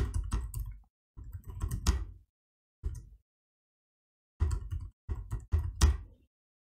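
Someone types an email address on a computer keyboard, producing quick close clusters of key clicks in several short bursts separated by pauses, with no talking.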